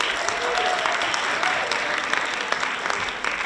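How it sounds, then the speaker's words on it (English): A community audience at a singing competition event gives a round of applause, a brisk, dense burst of clapping sustained evenly from start to finish. "Let's give ourselves a round of applause for being here."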